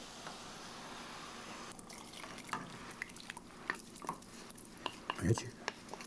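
Liquid is poured into a pot nearby, with light clinks of utensils and a few drips, quiet and intermittent.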